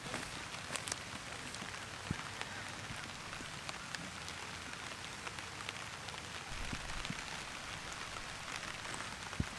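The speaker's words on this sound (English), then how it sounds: "it's raining" Rain falls steadily on a garden, a continuous soft hiss with scattered close drips and pattering, no voices over it.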